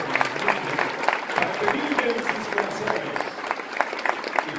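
An audience applauds at a live concert of Andean folk music, steady massed clapping from a crowd at moderate distance, with an announcer talking over it throughout.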